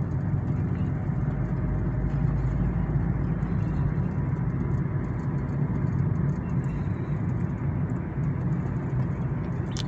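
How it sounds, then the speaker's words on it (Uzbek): Daewoo Nexia 3 car driving in third gear at about 30 km/h, its engine giving a steady, even low drone with road rumble heard from inside the cabin, with no noticeable change in pitch. "Motor ovozini eshitinglar."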